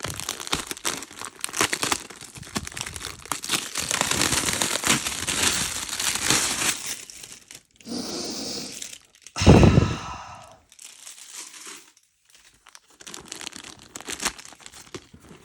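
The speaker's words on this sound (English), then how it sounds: "If you've never bought a sneaker at a resale shop, here's what it's like to unwrap one." New Air Jordan XII sneakers are unwrapped from resale shop packaging, with close crinkling and rustling of paper and plastic, a few sharp tearing crackles and brief quiet gaps.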